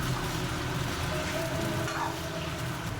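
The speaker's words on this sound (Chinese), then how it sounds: "大概炸个2分钟左右，注意观察田鸡的颜色变化" Frog meat deep-frying in hot oil in a wok for a spicy dry-fried Chongqing-style dish, giving a steady, dense sizzle and crackle that stays even and close throughout, with no voices.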